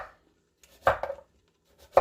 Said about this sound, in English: I'm going to be just cutting up my butternut squash